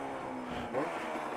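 Suter MMX 500 two-stroke racing motorcycle engine running steadily in first gear, a dense buzzing drone that swells slightly in loudness near the end of the short stretch.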